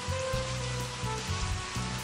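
Steady hiss of rain pattering on a small roofless LEGO house, a dense even wash of drops with low rumbling bursts underneath, continuous and fairly close throughout.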